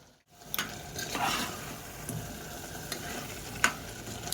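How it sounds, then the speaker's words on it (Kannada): Mushrooms frying in oil in a pan for biryani, stirred with a utensil; a continuous sizzle runs throughout, with a few sharp scrapes and clinks against the pan at irregular intervals. "ಮಶ್ರೂಮ್ ಹಾಕಿ ಚಂದಾಗ ಕೈ ಆಡ್ಸೋಣ"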